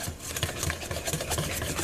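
Rhythmic scraping and swishing of a whisk or spoon mixing all-purpose flour into crepe batter in a bowl, steady repeated strokes heard close up with no talking.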